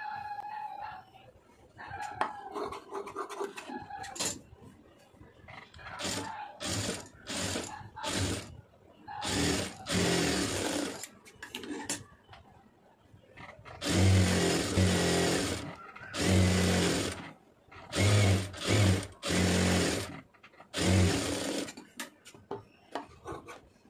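A sewing machine stitches a net blouse in uneven bursts, rapid rasping runs of varying length broken by short pauses, close and moderately loud, with a voice speaking in places.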